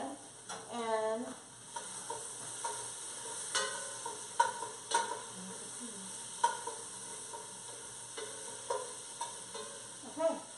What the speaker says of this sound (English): So I'm going to stir this again.